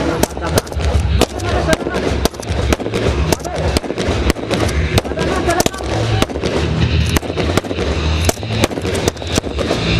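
Rapid bursts of blank gunfire crack sharply and continuously during a police mobile brigade assault demonstration at an anniversary ceremony, the shots coming in a dense, uneven rhythm with ceremony background noise.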